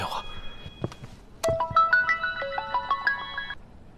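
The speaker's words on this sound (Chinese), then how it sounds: "电话。" A phone ringtone plays a bright rising melodic pattern of electronic tones after a couple of short knocks, close and clear, lasting a few seconds.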